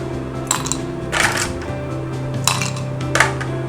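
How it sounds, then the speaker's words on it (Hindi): Ice cubes clink and drop into a glass for a kiwi tequila drink, a few bright scattered knocks over steady low background hum. "And now we add little more ice cube into it."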